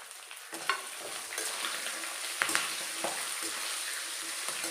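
Green chillies frying in oil for lemon rice: a continuous soft crackling sizzle with occasional stirring clinks and spatters, fairly quiet and close, no talking.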